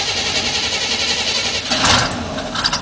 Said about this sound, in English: gotta move the truck, so I might as well start it up for you